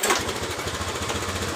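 Honda Beat scooter engine running with a rapid, rough pulsing putter close by, steady and fairly loud with no talk; the bike has a fault where it dies and loses power when the throttle is opened.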